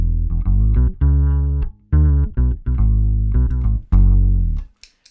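Bass guitar through an OC2 octave pedal, giving a thick synth-bass tone: a run of loud, sustained low notes with short gaps between them, played alone and up close.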